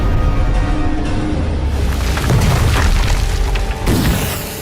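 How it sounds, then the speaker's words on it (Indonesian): A smoke bomb going off in an action film scene, a loud sustained booming rush of noise filling the clip with dense hissing texture and a brief surge near the end. "Zen bisa melemparkan bom asapnya untuk mengelabui mereka semua."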